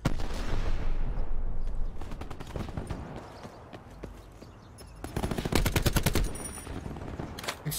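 Rapid video game gunfire during a gun game match, with bursts of automatic shots up close, a quieter lull in the middle, then a dense, loud volley toward the end.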